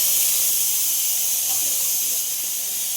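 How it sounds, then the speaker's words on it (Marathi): A pressure cooker cooking dal for tadka on the stove lets out a loud, steady hiss of steam, continuous for the whole moment with no pauses. "साईडला आपल्या या कुकरच्या शिट्ट्या व्हायला लागलेल्या आहेत"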